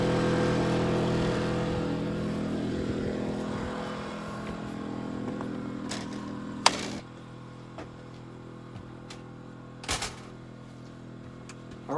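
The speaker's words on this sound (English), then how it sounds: "I'm going to go ahead and start the generator now." An A-iPower SUA2000iV inverter generator hums steadily at a camper, then its drone drops to a quieter idle after about seven seconds, with a few sharp clicks and knocks nearby.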